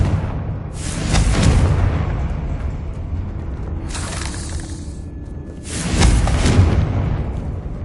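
Two loud blasts from the Confringo fire spell in the video game Hogwarts Legacy, each a sharp crackling burst that swells and then decays, with a quieter rumbling stretch between them and no speech.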